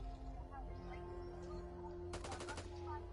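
Assault rifle gunfire in the video game Back 4 Blood, a short rapid burst of shots late in the moment over a steady low game ambience hum.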